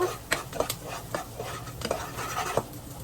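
Onion and garlic sautéed in a pan while a utensil stirs, making repeated scraping and clinking strokes at a quick, uneven rhythm over a faint sizzle, with no talking.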